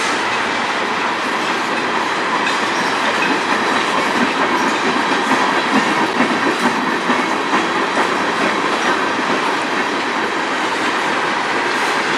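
A train rolls past on a distant service track, giving a constant broad rumble with faint clickety-clack throughout and no break in level.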